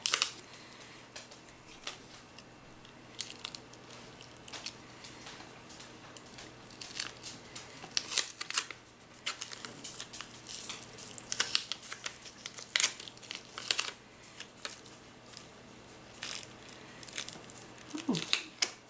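Cut vinyl lettering being peeled off its backing sheet: soft crinkling and small tearing crackles come in uneven bursts, close and quiet, with a faint voice now and then.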